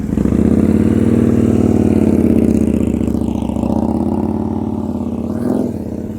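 A motorcycle engine revs up as the throttle opens during a rider confidence practice session, a loud, close rough drone that climbs and holds, then dips and swells again near the end.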